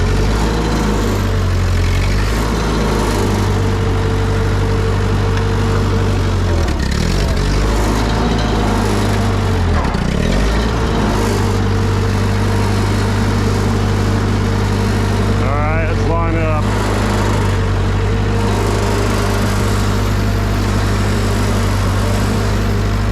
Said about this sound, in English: I'm going to do this with the tractor.